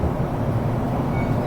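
Interior running noise of an E233 series train on the Tokaido Line between Kozu and Hiratsuka, a steady low rumble and hum of motors and wheels on rails, continuous and even.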